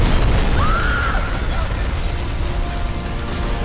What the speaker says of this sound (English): Source of explosion was an oil truck on the bridge surface.